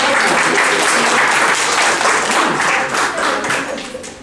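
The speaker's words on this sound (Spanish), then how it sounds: "Un aplauso para Santiago, que se acuerda." A live audience at a Sunday storytelling event applauds for a boy named Santiago, dense steady clapping that holds loud for a few seconds before tapering off toward the end.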